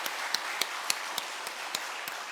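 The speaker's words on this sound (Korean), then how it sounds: "크게 박수로 환영해 주시기 바랍니다" Slow, rhythmic clapping sounds at a Sunday church service, about eight distinct claps spaced evenly over a soft, steady background hiss.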